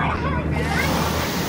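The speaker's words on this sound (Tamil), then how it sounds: "உள்ளே போக போக நல்லா அலை அடிக்குது" Sea waves wash around a boating jetty near Thanjavur on the way to Muthupet, a continuous rushing surge mixed with strong wind buffeting the microphone.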